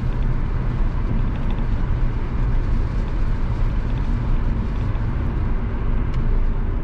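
A car drives along a road on a sunny day, giving a steady, loud rumble of engine and tire noise that stays constant throughout with no talking.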